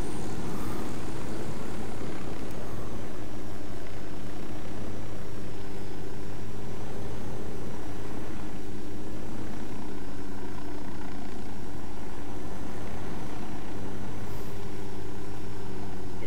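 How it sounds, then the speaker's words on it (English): A helicopter in the video game Ghost Recon Wildlands drones steadily with a loud, sustained rotor and engine hum throughout, alone with no talk. "I'm actually going to call a chopper here for us with the rebels"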